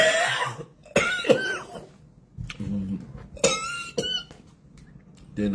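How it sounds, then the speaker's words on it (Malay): Several sharp coughs from one person come in quick bursts between short pauses, close to the mic, during a Quran recitation lesson. "Dia nak batuk."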